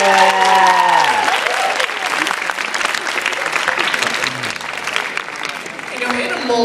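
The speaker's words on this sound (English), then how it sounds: "Give these people a great round of applause." Round of applause from a hypnotist show audience, loud and sustained across the whole stretch, with a dense clatter of many hands and some crowd voices mixed in.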